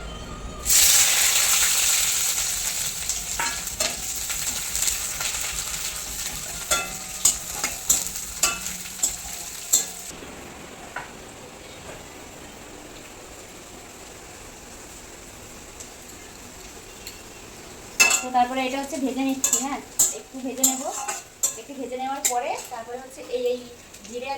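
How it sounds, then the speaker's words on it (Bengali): Onion, garlic and ginger frying with spices in a pan while cooking katla fish, a loud sizzle that settles into stirring and scraping, then a burst of clattering near the end, with someone talking over parts of it. "এই যে পেঁয়াজ রসুন আদা দিয়ে দিচ্ছি"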